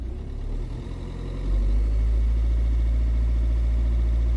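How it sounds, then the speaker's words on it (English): A Volvo V50 1.6 D2 diesel engine idles loudly nearby, then settles into a heavier, steady low drone as the throttle is opened. "I'll give it a couple of blips."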